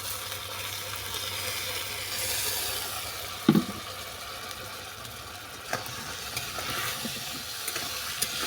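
Jujube pickle with a little water stirred in a pan, producing a low, steady simmering hiss with scattered scraping strokes and one clear knock of the utensil against the pan. No one speaks.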